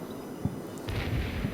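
Mortar rounds strike in the Combat Mission Normandy wargame, a dull distant thump followed by a low rumbling impact, faint and muffled with no voices.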